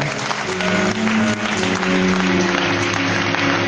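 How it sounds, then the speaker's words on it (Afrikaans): A church congregation at an Easter Friday service applauds loudly and continuously, dense clapping over a sustained musical background. "Kom ons gee hulle lekker aan die klap."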